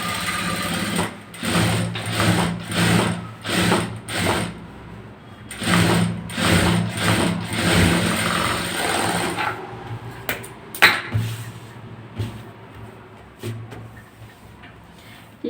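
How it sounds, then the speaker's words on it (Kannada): An electric sewing machine stitching a buff sleeve, running in short rapid bursts of rhythmic mechanical clatter separated by brief pauses, close and fairly loud, with no talking. "ಈಗ ನಾನು ಇದಕ್ಕೆ ಮೇಲಿಂದ ಹೊಲಿಗೆ ಹಾಕ್ತಾ ಇದ್ದೀನಿ."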